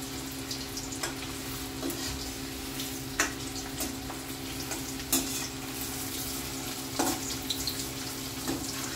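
Chicken pieces frying in an iron kadhai, a continuous moderate sizzle with intermittent scraping stirs and clicks of a utensil, heard alone without speech.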